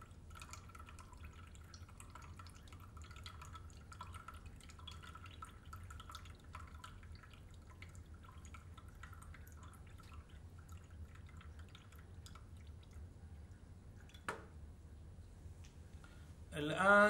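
Soft trickling and dripping of water draining out of a glass separatory funnel, leaving the oil behind; faint and steady, with a brief clink near the end.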